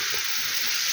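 Pancake batter sizzles in a hot, oiled frying pan, a dense, steady crackling hiss with no talking.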